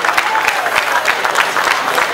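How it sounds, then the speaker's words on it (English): Steady audience applause at a health technology college convocation ceremony, with dense, continuous clapping and a few sharper claps standing out throughout. "A round of applause for him."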